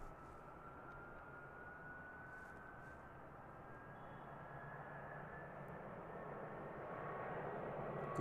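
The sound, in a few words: ATR turboprop airplane taking off at Christchurch Airport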